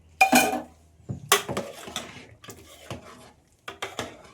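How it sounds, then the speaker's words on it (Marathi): Boiled potato and drumsticks being mixed into cooked dal in a metal pot, a ladle clinking and scraping in several separate knocks, close and clear with pauses between strokes, no talking. "त्याच्यामध्ये मी बटाटा आणि हे शेंग उकडून घेतलेले ना ते मी मिक्स करून घेते"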